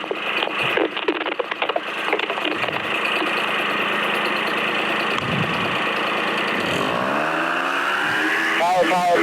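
Paramotor engine throttling up, a steady close mechanical drone that rises and grows louder toward full power near the end, with a voice calling out over it.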